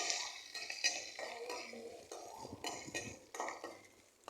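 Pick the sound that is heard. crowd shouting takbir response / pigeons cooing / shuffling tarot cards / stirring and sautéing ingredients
stirring and sautéing ingredients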